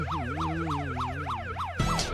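A police car siren wails in a steady rising and falling pattern, loud and close, for about two seconds before a sudden burst of broadband noise cuts in near the end.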